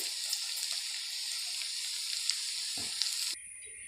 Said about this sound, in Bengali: এখন আমি দিয়ে দেব কিছুটা পেঁয়াজ কুচি দিয়ে হালকা করে ভেজে নেব পেঁয়াজ কুচিটাকে